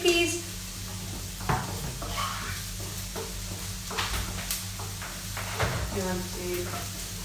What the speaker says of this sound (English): while Don is frying off the onions